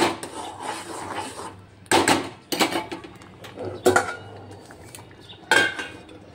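A spoon stirs upma in a pan, with bursts of metallic scraping and clinking in several separate rounds between quieter pauses.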